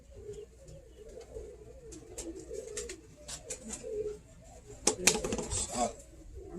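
Birmingham Roller pigeons coo softly and steadily in a loft, with scattered sharp taps and clatters that build to a busier burst near the end.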